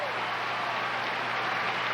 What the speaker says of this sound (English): big hand from the crowd